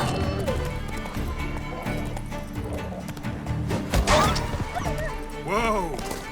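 Horse hooves pound at a gallop in The Witcher 3, a fast clip-clop that runs through the whole stretch under game music, with a horse whinnying and thuds of combat along the way.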